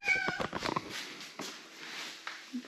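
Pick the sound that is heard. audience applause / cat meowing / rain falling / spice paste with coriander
cat meowing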